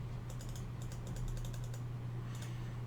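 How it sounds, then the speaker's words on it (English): A button clicked over and over while playing the mobile game Castle Clash, giving clusters of small, sharp taps in quick runs with pauses between, over a steady low hum. "Hours and hours of clicking a button like this."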